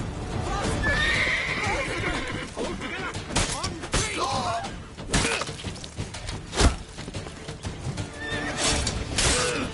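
A horse in The Witcher 3 neighs and gallops with clip-clopping hooves, plus crashes and breaking sounds and a voice speaking over the action.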